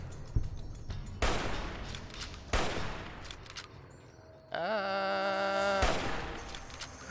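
Gunfire from the video game Fallout: New Vegas rings out in a few sharp, separate shots spaced apart, followed by a brief tonal in-game sound, at moderate loudness.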